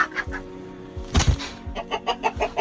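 A rooster and hens in a duck coop give a few short clucks and calls near the microphone, mixed with a couple of dull thunks and knocks close by.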